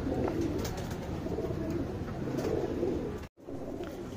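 A male Dubasu pigeon coos steadily and close by, a soft continuous murmuring that runs through most of the moment and breaks off briefly near the end.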